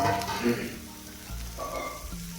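Okra (bhindi) pieces spread out in a pan, frying and being stirred while uncovered, giving a soft steady sizzle with a few scraping stirs, fairly close and moderately loud, with no talk.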